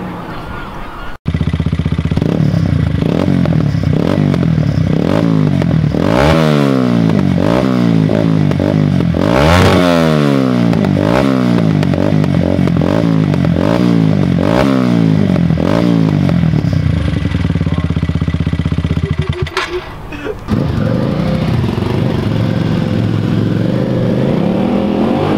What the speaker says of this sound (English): now I'm gonna do some revving